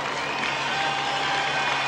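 Crowd lining the course of the 1983 London Marathon, cheering and applauding a runner in the closing half mile, a steady wash of clapping and voices heard alone.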